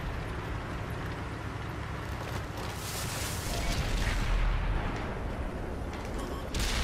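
A tank cannon shot hits the lower plate of an enemy E75 in World of Tanks, fired from a Centurion Mk. 7/1, a heavy boom over constant engine rumble and battle noise, with a louder surge near the middle.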